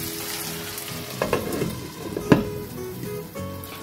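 Onions and tomatoes with salt sizzle steadily in a hot pan for palak paneer, a continuous close frying hiss broken by a few scraping stirs and a sharp clink of a utensil.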